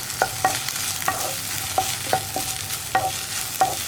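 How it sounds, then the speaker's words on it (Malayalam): Okra being stirred with salt and turmeric in a frying pan, a spoon scraping in repeated distinct strokes over a soft sizzle, close and steady with no talking. "ഇത് രണ്ടും ചേർത്തിട്ട് വീണ്ടും നന്നായിട്ട് ഇളക്കി മിക്സ് ചെയ്യാം"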